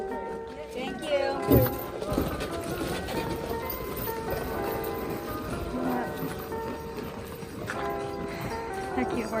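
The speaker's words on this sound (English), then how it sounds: "They're cute horses." Horses walking at an outdoor historical village, hooves clip-clopping steadily at moderate distance amid crowd chatter and people talking nearby.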